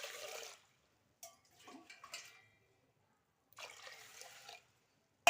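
Water poured from above onto jowar grains soaking in a vessel, heard as two short, soft splashing bursts separated by quieter handling noise and silence.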